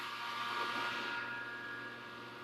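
A fume extraction fan runs during a homebrew electronics build, a steady broadband whoosh with a faint tonal whine, fairly loud and constant, with no talking over it.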